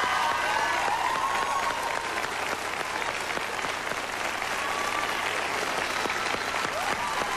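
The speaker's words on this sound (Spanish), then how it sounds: "Yo me uno al aplauso del público." Dense, steady applause from a studio audience at a televised talk show, loud and continuous throughout with faint voices underneath.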